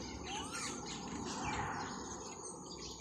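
A black bird with white feathers calls with quick chirps over a steady wash of insect buzz and outdoor ambience, fairly faint and distant.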